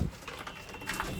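Nepali high flyer pigeon cooing in a home loft, a couple of soft low murmuring coos at close range over faint background noise.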